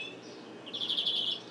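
A caged songbird, kept for its tuneful notes, sings a short bright trill that rises out of low background hum and carries on to the end.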